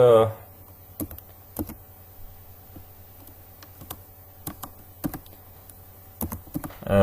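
Typing on a computer keyboard, a sparse run of sharp key clicks in small bursts with pauses between, close up in an otherwise quiet room.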